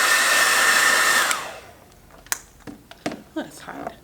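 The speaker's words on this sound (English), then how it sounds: "I'm going to take my blow dryer and dry it again" A handheld blow dryer drying paint on a painted dragon eye, a loud steady whooshing roar that cuts off after about a second and a half, followed by light tapping and handling noises.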